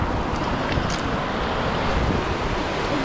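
Steady broadband rush of a mountain river near Sochi, constant and close, with wind buffeting the microphone and no clear voices.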